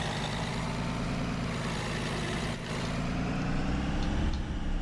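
Thomas C2 school bus driving in Rigs of Rods, a steady low engine drone running continuously and loud throughout, with a brief dip midway and a slight rise near the end.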